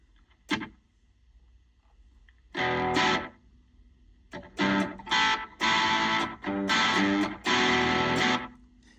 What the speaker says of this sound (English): I'm just going to be using my delay